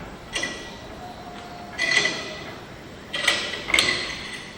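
A steel lift pin being worked into a tractor's three-point hitch gives a few brief metallic clicks and creaks in separate bursts, close by and fairly quiet, with no talking.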